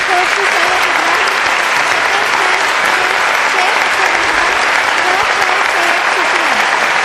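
Sustained applause from an audience at a school annual award ceremony, dense and steady clapping throughout, with a voice speaking over it.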